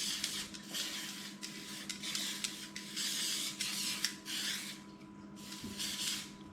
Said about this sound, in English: make sure you grease it well with some spray oil or butter